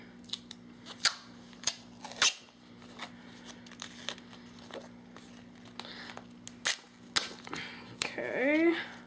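Duct tape is snapped, torn and ripped off the roll in a series of sharp, loud bursts with quieter pauses between, ending in a long stretching peel, all close up over a steady low hum.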